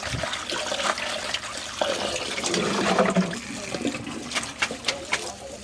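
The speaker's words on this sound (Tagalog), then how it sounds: "Hugasan mabuti itong kangkong kasi hindi ko naman alam kung saan to kinuha." Water spinach (kangkong) is rinsed under a running tap, giving a steady, fairly loud splashing gush with faint handling of the leaves in the stream.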